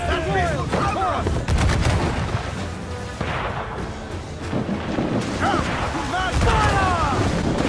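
Ship cannons boom repeatedly in a naval battle in Assassin's Creed Black Flag, heavy blasts mixed with shouting crew voices and battle commotion.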